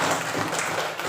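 A classroom of students applauds a group's poster in a short, dense burst of clapping.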